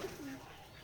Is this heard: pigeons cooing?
yes